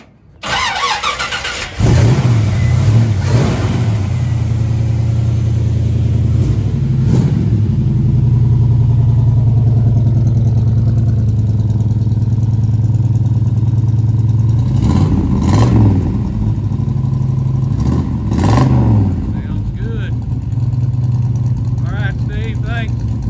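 A 1953 GMC five-window pickup with a 283 V8 cranks and fires up, then idles loudly up close with several rising revs and settles back, while a person speaks briefly over it.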